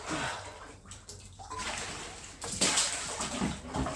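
A bucket dragged through deep water to fill it, giving a continuous sloshing, splashing rush that swells louder toward the end, close by with no talk.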